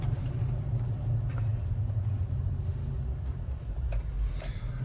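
A car cruising along McDowell Road in Jackson, Mississippi, with a steady low engine rumble and tire roar that holds throughout, joined by a few faint clicks and knocks.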